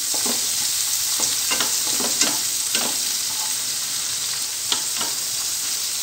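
Chopped tomatoes sizzling and frying in butter in a pan, with repeated scraping stirs breaking through the steady hiss, close and continuous, no voices.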